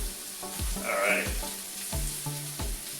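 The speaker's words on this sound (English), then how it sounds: "So I just want to get that onion a little translucent." Onion and sausage fry in a pan with a steady near sizzle, broken by several stirring scrapes and clinks over a few seconds, with no voices.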